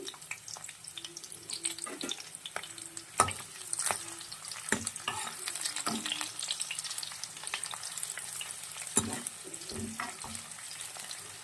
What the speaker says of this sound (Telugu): ఇందులోనే మనం ఉల్లిపాయలు కూడా వేసుకుంటున్నాము.